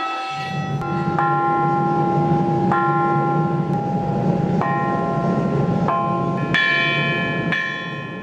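Church bells of St Bart's ring out in a sequence of clear, overlapping strikes, each tone lingering and blending with the next over a steady background.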